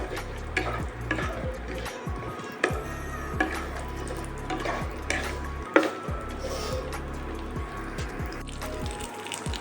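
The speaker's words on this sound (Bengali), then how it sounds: "এরপর দিয়ে দেবো পঁচিশ গ্রাম কাজু কিশমিশ পুরোটাই এটাও একটু হালকা ফ্রাই করে নেব" Cashews and raisins lightly frying in a pan for basanti pulao: continuous close sizzling with frequent scraping and clinking of a spoon against the pan throughout.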